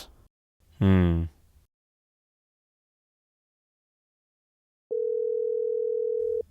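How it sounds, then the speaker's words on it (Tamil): Telephone call tone heard through a handset: a short burst of voice first, then a steady, unbroken electronic tone for about a second and a half, with a bit of speech returning at the very end. "ரிங் ஆகுது சார்."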